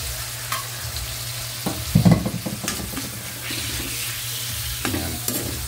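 Pork pieces frying in a pan with sautéed onion for pakbet, a steady close sizzle broken by several clattering stirs with a utensil scraping through the meat.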